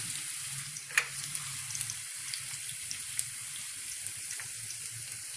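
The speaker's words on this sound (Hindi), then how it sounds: "हल्का सा प्याज को मैं सोते करूँगी" Onion sautés in a pan for a pizza topping, giving a faint, steady sizzle with a few small clicks and stirring taps.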